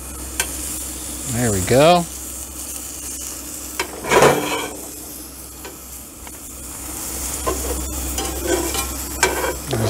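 Grilled cheese sandwiches frying in a pan from a camp chuck box, a steady soft sizzle with a scrape of a spatula and a few clinks, and a person speaking briefly over it.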